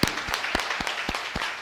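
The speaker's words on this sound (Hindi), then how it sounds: "जोरदार तालियां, और ज्यादा तालियां बजाई जाए" Audience applause at a Ramayana quiz competition event, a burst of scattered hand claps with sharp irregular strikes over a steady crowd wash, moderately loud and without talk.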